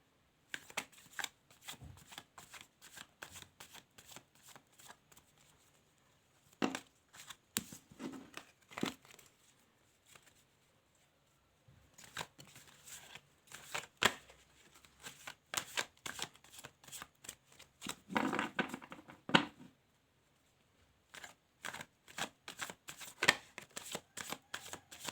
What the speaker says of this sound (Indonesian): Jangan di skip pada saat saya menshuffle kartunya